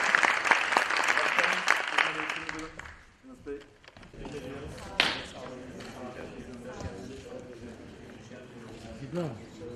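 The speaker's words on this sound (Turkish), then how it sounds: "onlar için bir kez daha alkış" An audience applauds a theatre troupe after their play, with loud clapping for about three seconds that then fades. Talk and stage sounds carry on afterward.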